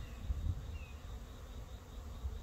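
Honeybees swarming around a hive infested with wax moths, a steady low insect hum with scattered louder passes close by, no talking.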